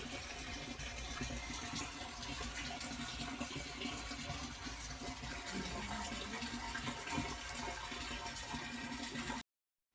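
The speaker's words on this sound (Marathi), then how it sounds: "थोडासा पाऊस चालू आहे बस," Light, steady rain hissing softly and evenly throughout, with no voices.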